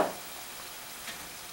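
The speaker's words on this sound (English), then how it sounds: "And then we'll just continue to let this cook down." Puttanesca sauce with red pepper flakes, capers and olives sizzles steadily in a pan as it cooks down, a close, even frying hiss with no talk over it.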